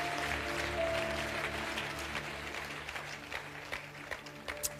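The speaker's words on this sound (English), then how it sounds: "You need to clap well there." Congregation clapping during a church sermon, a steady wash of applause over sustained low musical tones, with a few sharper claps standing out toward the end.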